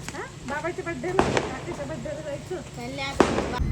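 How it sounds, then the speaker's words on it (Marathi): Firecrackers pop a couple of times, sharp and a little distant, while people talk loudly nearby at a birthday celebration. "अरे वा फटाके वाजायला"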